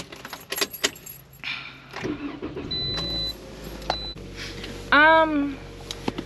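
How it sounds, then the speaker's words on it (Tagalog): Car keys jangle close by, then an engine cranks and catches in a short burst before settling into idle, with a voice speaking over the start. "Start ko lang po yung sasakyan ko."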